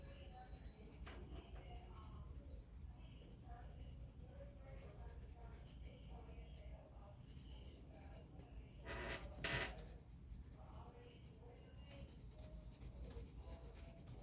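A pencil sketching very lightly on paper with little pressure, a soft continuous scratchy rubbing that stays faint and steady throughout, with a brief slightly louder stroke near the end.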